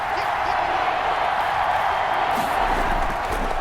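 A steady, loud wall of stadium crowd roar fills a Madden 21 football simulation as the Vikings play the Texans near the goal line, a dense continuous wash of noise without distinct claps or chants.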